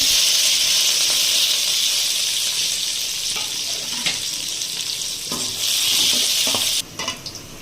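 Onion, green chili and curry leaves frying in hot oil with cumin and fenugreek, a loud, close, continuous sizzle with occasional stirring scrapes, the hiss dropping abruptly near the end.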